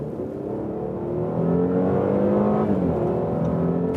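Mercedes C-Class coupé, a C400 or C63 S AMG, accelerating hard from 50 to 100 km/h, its engine note rising steadily and growing louder partway through, heard from inside the car with no one talking.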